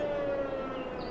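A siren in Farming Simulator 22 wails at night, one sustained steady tone, loud and close, with no talk over it.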